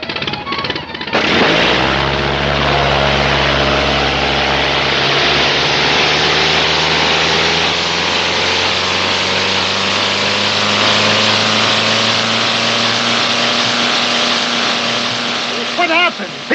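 An early aircraft's propeller engine fires up in a Keystone Cops film scene and roars loudly and steadily at close range, with a droning, buzzing tone that holds for over fifteen seconds.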